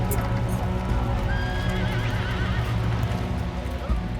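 Horses come ashore through the surf, with clip-clopping hooves and whinnying neighs over a busy background, and voices are heard along with them.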